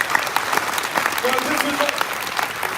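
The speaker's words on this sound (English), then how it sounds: "how about a round of applause for the chef?" Passengers watching a cooking show aboard the Majestic Princess cruise ship applaud the chef in a lively, continuous round of clapping, while a voice carries faintly beneath it.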